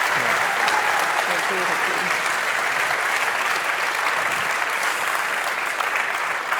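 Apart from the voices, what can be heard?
audience applause for Ellie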